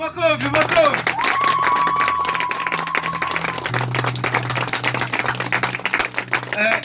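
In a church congregation, a burst of clapping opens and then fades into a broad crowd murmur. A sustained tone is heard over it, and voices talk and call out through the whole stretch.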